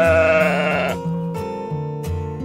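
Sheep bleat in a few loud, close, wavering calls, each distinct and separated by brief pauses, with no talking.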